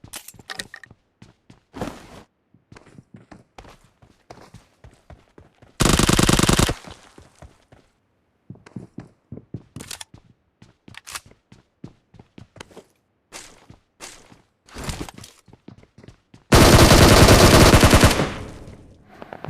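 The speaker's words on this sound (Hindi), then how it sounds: "वैसे मैंने इसको स्कारल से पेल दिया" SCAR-L assault rifle fire in the mobile battle royale game PUBG Mobile, with short rapid bursts, scattered single shots and thumps, and two long sustained automatic volleys, loud and close with no talking.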